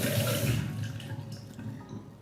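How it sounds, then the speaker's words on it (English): Goji berries and cordyceps flowers being rinsed in water for a steamed cod dish, with a steady running-water wash that starts louder and continues softer with splashing, no talk. "Wash the goji berries and the cordyceps flowers."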